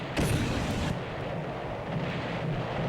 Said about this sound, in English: Mortars are inbound today.